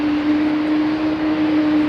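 Steady jet engine roar with a strong constant hum from an airliner in Latvian independence livery at Heathrow, loud and unbroken throughout.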